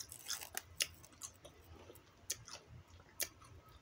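Someone chewing a hot pepper, close crisp crunching bites in an uneven rhythm, soft overall with a few sharper snaps standing out against a quiet background.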